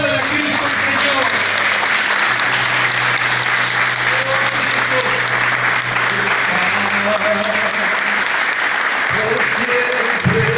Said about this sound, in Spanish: Cuando le aplauden a Cristo el Señor